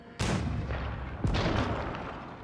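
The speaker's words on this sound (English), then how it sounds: "So now, we got 3 bombard cannons." Bombard cannons fire in a battle in Age of Empires 4, two loud, booming blasts about a second apart, each with a deep rumbling tail, and the sharp onset of a third at the very end.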